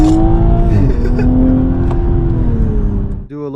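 A 2020 Toyota Supra GR (A90) engine revs hard and accelerates, loud and close, its roar climbing steadily before cutting off sharply at the end.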